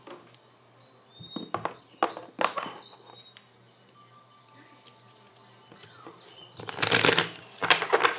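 Tarot cards shuffled by hand in irregular papery riffles and flutters, close and fairly loud, with the busiest bursts near the end and quieter rustling between them.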